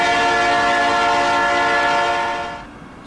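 A Union Pacific Dash 9 diesel locomotive in the Trainz 2012 railway simulator sounds a loud, sustained multi-tone air horn that holds steady, then fades out near the end.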